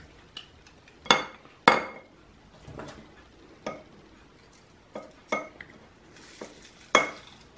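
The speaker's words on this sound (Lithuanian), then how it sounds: "Štai svogūną visi sutraiškiam" Onion being crushed in a hand press while preparing chicken shashlik: a series of sharp crunching squeezes and clicks, several close bursts spaced unevenly, with faint kitchen clatter between.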